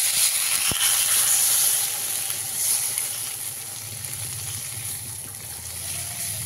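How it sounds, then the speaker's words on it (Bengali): Water is poured into a hot pot of spiced potatoes cooked down with masala, making a loud hissing, steaming rush at first that eases into a softer, steady sizzle. "এর মধ্যে আমি পরিমাণ মতো জল দিয়ে দিই।"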